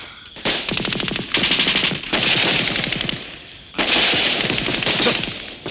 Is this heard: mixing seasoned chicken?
no